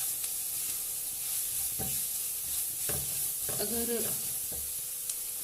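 Spiced chicken for samosa filling cooking in a pan, a soft steady sizzle punctuated by several scraping stirs, with a brief spoken word over it.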